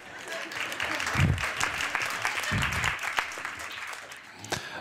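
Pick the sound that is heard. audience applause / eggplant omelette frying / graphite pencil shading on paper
audience applause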